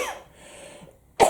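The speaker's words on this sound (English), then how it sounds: "Oh, I need to cough, hang on." A single sharp cough near the end, loud and close, after a quiet stretch with faint tonal sounds.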